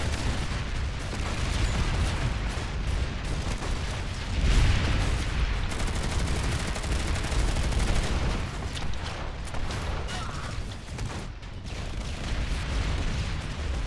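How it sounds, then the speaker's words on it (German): Rapid bursts of gunfire from the online shooter Planetside 2, dense and continuous across the whole stretch, with heavier booming hits mixed into the loud, busy battle noise. "Schießt denn da auf mich? Der da schießt auf mich."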